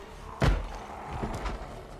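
A door is struck in the Project Zomboid video game: one heavy thud, then a few lighter knocks under low background noise.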